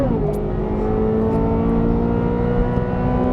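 A 2023 Corvette Z06 engine pulls hard under power on a race track, a loud steady roar with rising pitch after a brief dip, close and continuous.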